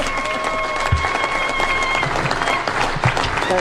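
A crowd at a public event applauds the chief guest, dense steady clapping with scattered sharper claps and some background voices.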